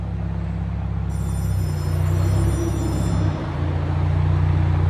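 2013 BMW 328xi with a turbo exhaust and straight pipes idling close by with a deep steady rumble as it backs up, low drone swelling slightly, no talk.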